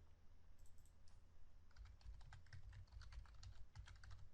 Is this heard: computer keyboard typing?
yes